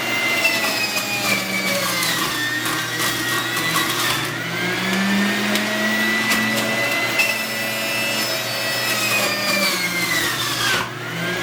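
A Breville home juicer whirs steadily as fruits and vegetables are fed through its chute, its motor pitch dipping and recovering under load with brief gritty crunches, loud and close throughout.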